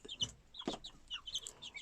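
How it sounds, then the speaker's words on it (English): Baby chicks on a farm cluck and peep in quick, high, overlapping calls, with a couple of lower clucks, close and fairly faint, with no talk. "Baby chooks. Baby chooks."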